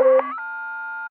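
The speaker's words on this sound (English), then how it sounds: "Here is another one that is a phone when you call someone and it's just waiting to connect." A short hyperpop synth tone made from a phone's waiting-to-connect signal: a brief buzzy onset settles into a steady electronic hum that cuts off abruptly.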